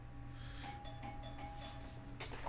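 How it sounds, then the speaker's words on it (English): A doorbell chimes faintly over a steady low hum, with a second ring near the end; no one speaks. "Somebody's ringing my doorbell."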